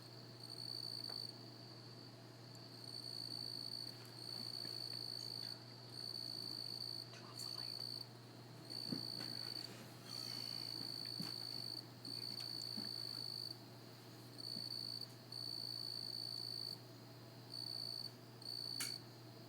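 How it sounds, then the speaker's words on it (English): A single cricket chirps loudly outdoors at night in steady pulsed trills that repeat in regular bursts through the whole stretch, over a constant low background hum. "No, that cricket's not even close to the window. It's just how loud it is."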